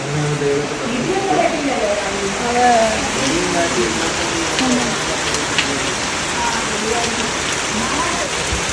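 Heavy, steady rainfall with wind pours down continuously, with a person speaking intermittently over the downpour.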